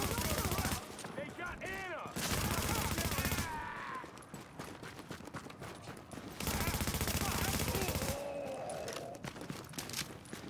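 Gunfire from the shooter video game The Division, with bursts of rifle shots and rapid fusillades against a sniper enemy, loud and close, separated by quieter gaps of game sound.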